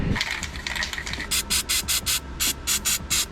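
Aerosol spray can applying underbody coating to a rusty battery tray on a BMW E36, a run of hissing bursts that settles into about ten evenly spaced short sprays, loud and close.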